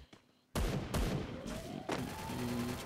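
Gunfire during a fight in the video game Free Fire: a sudden loud volley of shots after a quiet moment, with repeated blasts and ringing echoes close up.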